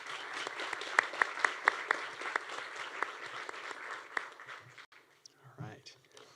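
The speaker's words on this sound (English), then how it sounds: "give a little applause for Samantha" Audience applause at a college senior awards banquet, a few seconds of steady clapping that fades out, followed by a voice starting to speak.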